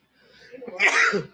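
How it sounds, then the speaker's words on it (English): A single close sneeze, starting with a breathy intake that builds into a sharp, noisy burst. "Oh my gosh, I'm sneezing."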